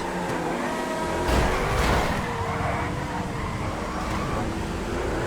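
Race car engine of the Hot Ring Sabre in GTA FiveM roaring steadily at close range, swelling briefly mid-way with a siren-like whine and traffic noise mixed in.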